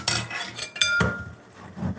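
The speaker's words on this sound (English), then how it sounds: "I'm really trying to get through the dishes" Dishes and pots clattering while being washed at a home sink, with sharp metallic clanks and knocks in an irregular run, close by and fairly loud, with no voices.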